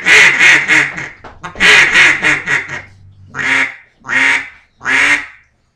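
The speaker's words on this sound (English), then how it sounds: "here's a timber call" Timber duck call blown in a rapid run of soft quacks, then three separate drawn-out quacks, close and alone.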